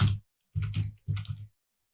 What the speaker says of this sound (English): we will type root for the username value